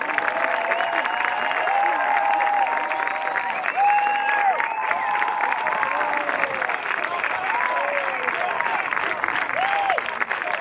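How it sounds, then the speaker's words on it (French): Festival audience at the Porquerolles Film Festival applauding and cheering a special prize for Jean-Marc Barr, continuous clapping with shouts and whistle-like calls rising over it. "On applaudit Jean-Marc pour son prix. Plus fort, plus fort!"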